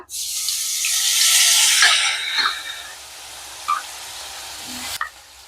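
Cumin paste hitting hot oil in a pan for a koi fish curry: a loud, bright sizzle bursts up at once, then softens over several seconds, with a few spatters and a clink near the end.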